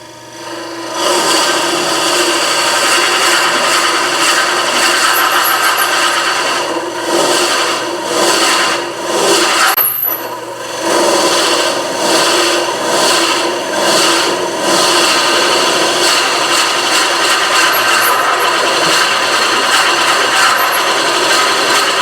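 A drill bores hard into a wooden pepper mill blank spun on a lathe, a loud continuous grinding rub with a steady motor whine and a short dip where the cut eases before resuming.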